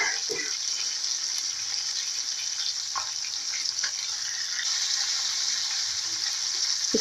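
Fish frying in a pan for a Tuticorin-style fry, with a steady close hiss of oil running throughout and occasional soft pops and crackles, no voices.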